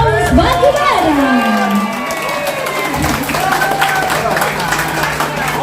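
Crowd applause and cheering at a Laskar Prabowo halal bihalal gathering in Indonesia, clapping and shouts mixed with voices and a sliding whistle-like tone, steady and fairly loud.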